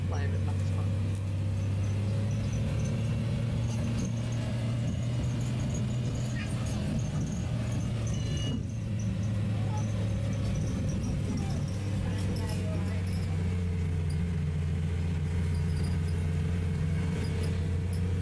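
Optare Metrorider bus driving in the Roblox video game on Ammanford Route 14, a constant low engine drone that holds steady throughout, loud and close, with faint clicks and a voice talking over it.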